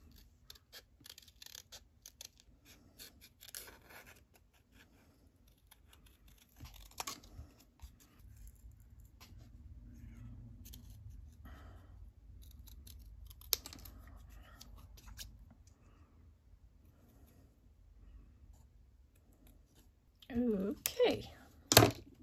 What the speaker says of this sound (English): let's cut out our diploma